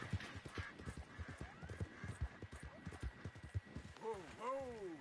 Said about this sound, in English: just stole a new horse and riding out in the middle of nowhere